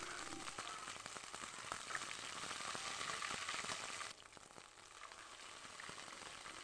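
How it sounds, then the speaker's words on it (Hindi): Ginger garlic paste and garam masala spices fry in a pan with a faint, steady crackling sizzle and scattered tiny pops, quieter after a brief drop, with no talking. "लहसुन अदरक का पेस्ट फ्राई करेंगे और तमाम गरम मसाले अच्छे से फ्राई कर लेंगे।"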